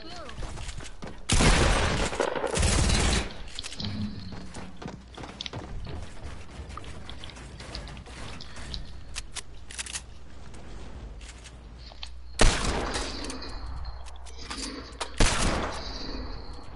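Video game gunfire crackles in dense bursts of rapid shots, loud at the start and again near the end, with scattered single shots and clicks between while a player talks faintly underneath.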